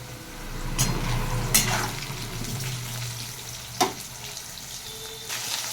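Potatoes frying in oil with whole cumin and bay leaf, a steady low sizzle with a few sharp clinks and scrapes of a utensil against the pan, no voices.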